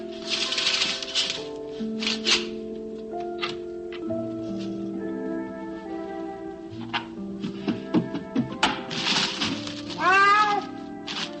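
A hungry cat at dinner time meows repeatedly, loud and close, with drawn-out wavering cries, over a background of sustained musical tones and small clicks.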